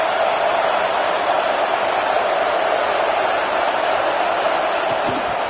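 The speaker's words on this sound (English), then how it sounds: "this home crowd is fired up and ready to make a difference today" Home crowd at a college football game (Ohio State) roars in a steady, dense wash of noise that holds loud and unbroken throughout.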